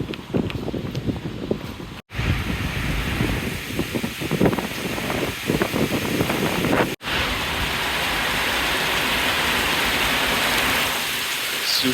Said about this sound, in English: Super heavy rain.